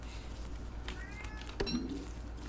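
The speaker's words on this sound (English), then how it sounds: "And maybe you can hear my cat meowing." A bored pet cat meows once or twice, faint and fairly distant, over a steady low background hum with no speech.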